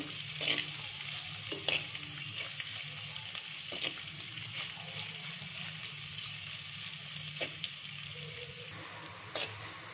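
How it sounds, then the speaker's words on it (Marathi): Sliced onions with a bay leaf sizzle in hot oil in a pan, a steady frying hiss broken by scraping stirs at irregular moments. "कांदा चांगला लाल होईपर्यंत परतून घ्यायचा।"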